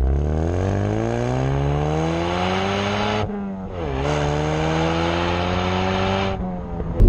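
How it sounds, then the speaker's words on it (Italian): Ford Mustang 2.3 EcoBoost exhaust echoing inside a tunnel, a loud sustained engine drone rising in pitch through the gears with a brief dip at a shift, heard close and alone. "lo scarico è incredibile, veramente"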